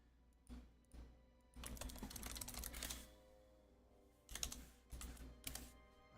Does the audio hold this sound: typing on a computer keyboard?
yes